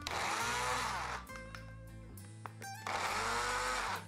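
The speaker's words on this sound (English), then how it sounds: "Stick it in a blender and blend it till it's really small." A kitchen blender grinds leftover bread into crumbs, a loud close motor whir that runs, drops to a lower uneven churn in the middle, then revs back up to full speed, with no talking.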